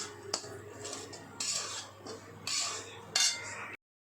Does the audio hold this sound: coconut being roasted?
yes